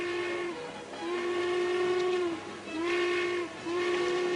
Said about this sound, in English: The train just pulled out.